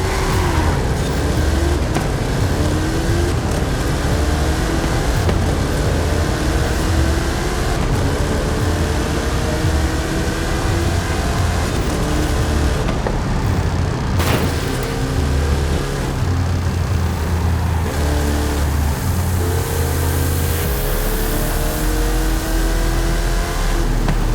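Hot Wheels Snake and Mongoose cars drag racing in Forza Horizon 5: loud, close engine roar with rising revs and gear shifts, plus a sharp whoosh partway through, continuous throughout.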